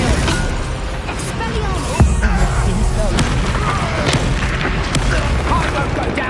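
Bombarda and Confringo spell explosions in the video game Hogwarts Legacy, loud booming blasts and bursts amid constant combat noise, with a voice shouting throughout.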